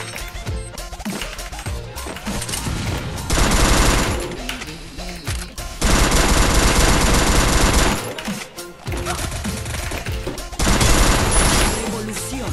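Dual Vector submachine guns fire in Free Fire in several long, loud, rapid automatic bursts, separated by short gaps with scattered impact sounds.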